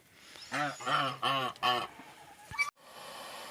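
Several loud, nasal honking calls of geese and Muscovy ducks in quick succession, close by on a farm, followed by a short sharp noise and quieter background rustle.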